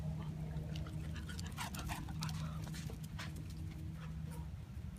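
A pet dog named Nilla, a puppy, whimpers and pants close by in a steady stream of soft breathy sounds over low background rumble, with no one speaking.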